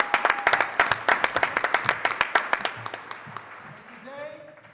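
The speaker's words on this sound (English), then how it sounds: "Let's hear a round of applause for Provost Rice and Dean Orr." An audience at the 2024 Do Good Challenge finals breaks into applause, a loud, dense burst of clapping that thins out and fades, with a voice starting to speak near the end.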